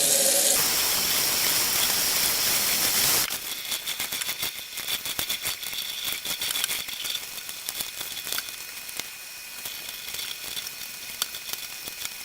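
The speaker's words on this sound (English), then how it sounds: "Use hot water first, just flush it because my hot runs faster," Hot tap water rushing and splashing over tie-dyed fabric being rinsed out, a steady loud hiss that drops to a lower, crackling spray with small splashes partway through, with no talking.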